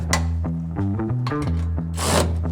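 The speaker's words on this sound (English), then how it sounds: "And then tighten down 2 remaining bolts." Power tool tightening bolts on Torklift Apex truck bed anchors in a Ford Super Duty bed, a close whining motor that shifts pitch in short bursts, ending in a harsher ratcheting burr.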